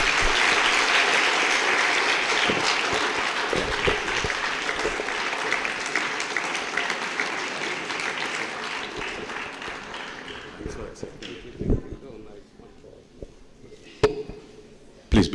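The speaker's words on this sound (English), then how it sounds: "Big claps." Audience applause following a talk on Jnana Yoga at a year-end gathering, a dense, loud clapping that fills most of the stretch, then thins into scattered claps and fades toward the end.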